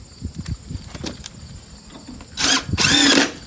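Power screw gun driving fasteners into Boral siding, two loud whirring bursts near the end after a stretch of quieter tapping and handling noises.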